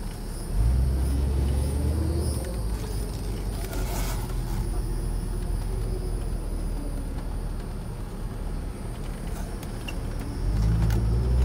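A 1969 Chevrolet Camaro pace car heard from inside while driving down a road, giving a steady, loud low engine rumble with road noise that swells slightly at the start and end.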